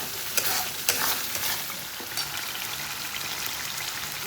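Garam masala being stirred into a sizzling pan mixture for matar paneer, a few spoon scrapes early on over a steady frying hiss.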